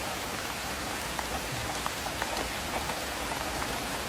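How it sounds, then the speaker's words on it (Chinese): Heavy downpour drumming on the roof of an electric tricycle camper, a steady dense hiss of rain with scattered sharper drop impacts, heard from inside at moderate level. "大概有10几天没有下这么大的雨了吧"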